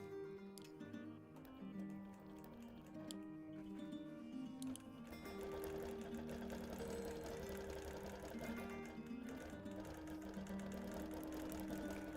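Longarm quilting machine stitching appliqué onto a quilt, running as a steady rhythmic mechanical hum and chatter throughout, quiet and continuous with no talking.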